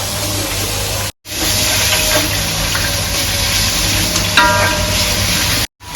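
Onions fry in coconut oil for a fish biryani masala, giving a loud, continuous close hiss like steam that briefly drops out twice, with no one talking.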